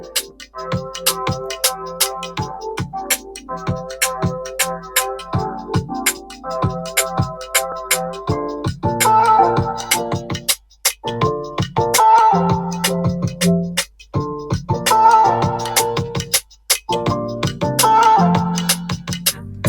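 Music playing through an Oraimo Rover Bluetooth speaker, with a steady beat, plucked melodic notes and a thumping low end, loud and continuous for about twenty seconds, with no talking.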